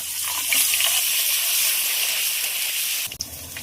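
Vegetables, bitter gourd, potato and drumstick, tipped into hot oil with five-spice and dried red chillies, giving a loud, steady, close hiss and sizzle that runs throughout, then a brief clatter near the end.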